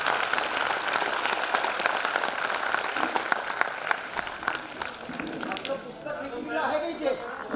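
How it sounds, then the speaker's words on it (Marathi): Audience at a senior citizens' festival event in Kalyan-Dombivli claps in a dense, continuous round of applause that thins and fades toward the end, with a voice speaking over the tail. "एकदा तुम्ही सर्वांसाठीच टाळ्या वाजूया"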